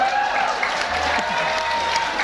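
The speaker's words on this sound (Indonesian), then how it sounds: "tepuk tangan dulu deh buat yang basic" Audience applause at a talk or seminar, a steady wash of clapping from a crowd that holds at an even level throughout, with a few faint voices mixed in.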